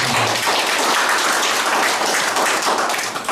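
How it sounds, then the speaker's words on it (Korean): An audience applauds at a literary award ceremony and association launch in Korea, with steady, dense clapping that fills the whole stretch at close range, loud and unbroken, with no talk over it. "여러분 큰 박수 부탁드립니다"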